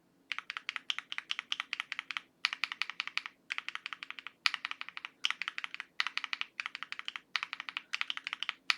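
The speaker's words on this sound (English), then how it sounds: "In terms of the lubed and filmed version," Typing on a keyboard fitted with lubed and filmed KTT Strawberry linear switches: steady bursts of bright, clacky keystrokes in quick runs separated by short pauses, close and alone with no voices.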